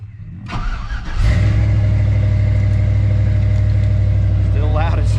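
Loud, droning exhaust of a red project car with a newly rebuilt engine, starting up and settling into a steady, throbby idle close by, with a brief rev near the end.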